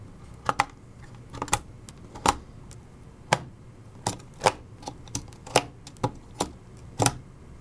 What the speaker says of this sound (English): Push down on the top and it will click when secure.